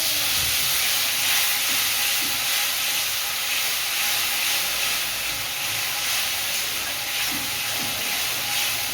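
Water poured into a hot pan of ginger, cumin, chilli and coriander powder for a Bengali fish-roe curry gives a steady loud steam hiss and sizzle that holds without a break.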